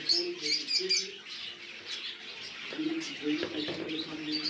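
Finches at a bird farm in Barishal chirp and tweet in quick bursts, with soft cooing mixed in, close and fairly busy.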